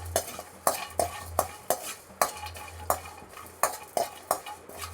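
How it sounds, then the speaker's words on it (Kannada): Almonds being dry-roasted and stirred in a pan for mutton paaya gravy, with a regular scraping stir of spoon against pan every half second or so and a faint sizzle underneath, close and steady with no talk. "ಇದನ್ನು ಚೆನ್ನಾಗಿ ರೋಸ್ಟ್ ಮಾಡ್ಕೊಳ್ಳೋಣ."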